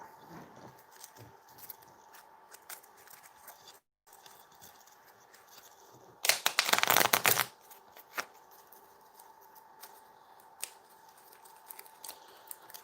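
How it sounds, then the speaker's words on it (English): Cards are shuffled into a deck during a tabletop card game, soft scraping and sliding peaking in one dense riffling burst, surrounded by faint scattered taps and rustles in a quiet room. "Let's shuffle this in here."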